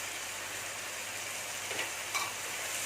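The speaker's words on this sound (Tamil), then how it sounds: "கொஞ்ச நேரம் இது வதங்கட்டும்" Mushroom masala sautéing in a pan, a low steady sizzle close by with a couple of faint scraping stir sounds near the end and no talking.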